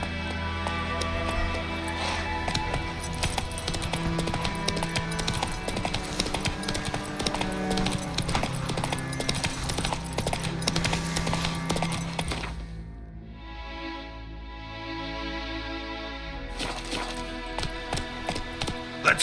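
Hoof clip-clops from the horse Roach galloping in The Witcher 3, a fast steady rhythm close by over continuous game music, with a brief quieter stretch midway before the beat picks back up.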